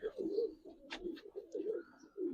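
A pair of colouring Giribaz Hurricane pigeons coo in short repeated low phrases, close and fairly quiet, with faint voices in the background.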